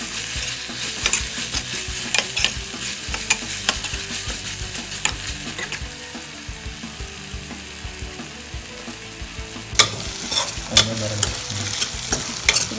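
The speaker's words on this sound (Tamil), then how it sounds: "ஆட் பண்ணிட்டு ஒரு 3 நிமிஷத்துக்கு நல்லா கிளறி விடுங்க" Vegetables with green chilies and mint being stirred in a frying pan for coconut rice, with a steady sizzle and repeated scraping strokes of a spoon, close and continuous with no talking.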